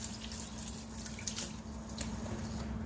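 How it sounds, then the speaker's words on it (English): Tap water runs steadily while a Ninja Foodi part is rinsed, giving a constant close hiss and splash with faint drips and no talking. "And then we're going to just rinse it and dry it."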